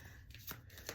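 A deck of cards riffled in a quick shuffle, two or three soft papery bursts, close and quiet against a faint background, no speech.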